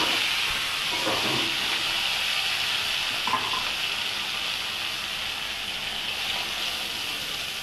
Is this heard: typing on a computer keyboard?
no